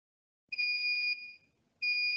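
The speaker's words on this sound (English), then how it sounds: "When it goes high, you can hear the buzzer making noise." An Arduino-driven piezo buzzer sounds a high water level alarm, giving a loud, steady high-pitched tone for about a second, a brief pause, then the tone starting again, with no other sound.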